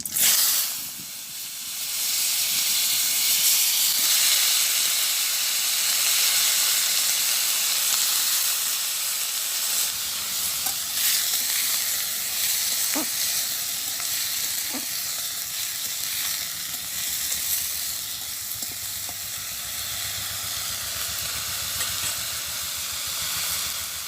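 Vegetables with whole cumin seeds sizzling in a hot pan, a loud steady hiss that settles a little after the first seconds, with occasional small pops and stirring clicks, no talking.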